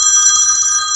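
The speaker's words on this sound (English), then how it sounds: "Pardon my phone ringing." A mobile phone rings with a steady, bright electronic trill that holds without a break, loud and close, while no one speaks.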